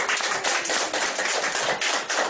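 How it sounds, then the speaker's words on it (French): Dense, steady applause fills a hall at a school theatre festival, many hands clapping together at a constant loud level for the whole stretch, with no voices breaking through. "On applaudit Lisette"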